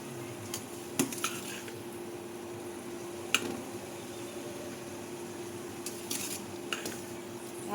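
Boiled jujubes are lifted out of a pot with a utensil, giving a few faint metallic clinks and scrapes against the pot over a quiet background.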